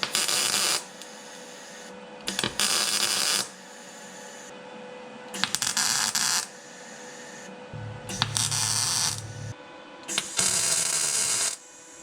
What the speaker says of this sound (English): I may go ahead and finish welding this piece on